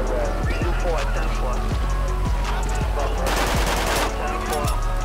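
Rapid bursts of automatic gunfire and single shots crack through a rainy GTA 5 police shootout, loud and close over a steady rain-and-engine bed, with radio-style voices talking alongside.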